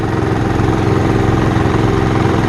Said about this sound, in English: Dad's got the pump on the back of the tractor there running to get that system warmed up